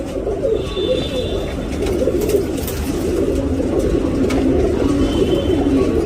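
Low, throaty cooing from a racing pigeon repeats steadily up close, with a faint high whine in the background.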